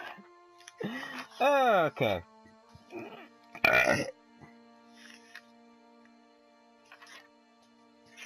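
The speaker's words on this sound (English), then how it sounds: "I burped." A loud, close burp with a deep, croaky drawn-out tone comes in two separate bursts. A voice can be heard briefly around them while he plays Pillars of Eternity on PS4.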